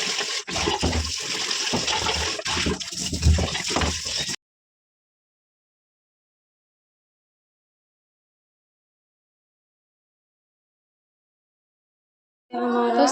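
Cut potatoes washed in water in a home kitchen, a few seconds of close splashing and sloshing, then a long silence before another short burst.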